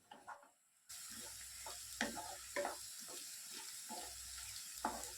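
Sliced onions with ginger, garlic and salt sauté in a pan, a soft sizzle starting after a quiet moment, with intermittent scrapes and taps of stirring, nearby and fairly faint.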